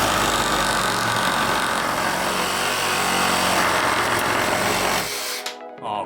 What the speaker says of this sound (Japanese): 1x4 を持ってきてみました。 これをちょっと切ってみますね。